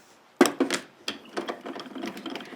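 A manual die cutting machine, a Grand Calibur, draws paper and a filigree craft die taped to its cutting plate through the rollers, giving a loud clunk followed by a run of ratcheting, rattling mechanical clicks close by.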